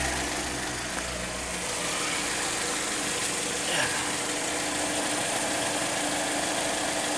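A Chevrolet Malibu Classic engine idles steadily after an oil change, a continuous even rumble heard close throughout with no change in pace.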